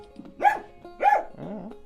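Two loud barks about half a second apart from a dog eager to be let outside, followed by a softer whining yelp, close by with no talking.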